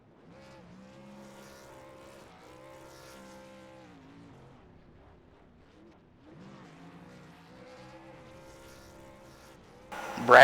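Racing trucks circling on a cool down lap, engines droning at a moderate distance with rising and falling pitch, easing off mid-way before revving again, ending in a loud burst.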